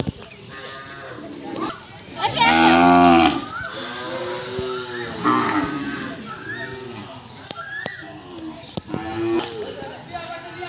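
Cattle moo during vaccination, with one loud, drawn-out low bellow and a few shorter calls nearby, while people talk throughout.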